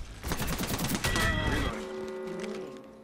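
Gunfire in the video game Apex Legends: a dense burst of rapid automatic shots, loud and close, for about a second and a half, then ringing tonal game effects that fade out.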